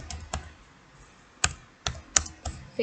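Keys on a computer keyboard are tapped in short, irregular bursts of a few close, crisp clicks, fairly quiet in a still room with no talking.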